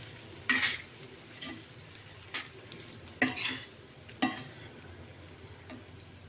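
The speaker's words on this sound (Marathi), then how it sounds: "आता व्यवस्थित हे कारलं परतून घेऊ" Stuffed bitter gourd sautéing in a pan with masala, a soft sizzle running underneath as a spoon scrapes and stirs in a few scattered, sharp strokes.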